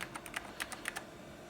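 Keys on a new computer keyboard being pressed one after another, giving about ten soft, separate clicks in an uneven rhythm. The taps are close and quiet, with no talking.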